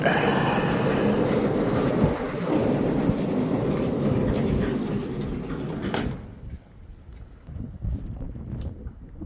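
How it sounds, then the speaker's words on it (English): A large farm barn door slid open on its track to reach a stored semi truck, a long loud rumbling scrape that fades into quieter scattered clunks and outdoor ambience. "Let's get the other door open."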